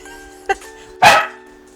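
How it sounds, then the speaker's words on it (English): Dogs barking indoors, a short yip followed by a louder single bark, close and brief against a quiet background. "Now we got growly dogs."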